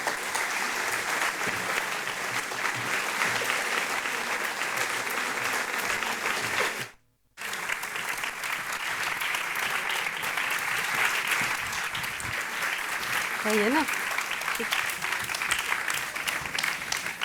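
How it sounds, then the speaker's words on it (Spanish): Conference audience in Córdoba applauding steadily for a long stretch, a dense wash of many hands clapping with one brief gap partway through, at a moderate distance with no clear voices on top. "les damos ya un aplauso"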